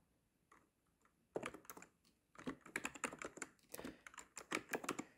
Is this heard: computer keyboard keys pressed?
yes